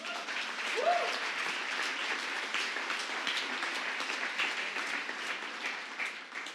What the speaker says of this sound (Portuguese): Isso você pode aplaudir porque é Jesus, cara